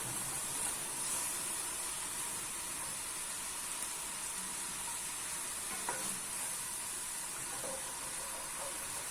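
A pan sizzles steadily with a soft hiss of muscat wine boiling off while deglazing, a few faint clinks of a utensil, quiet and continuous with no talking.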